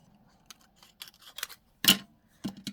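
Scissors snip through material in a few short, crisp cuts, the loudest one near the middle of the clip and a couple of quieter clicks toward the end, close by in a quiet room with no talking.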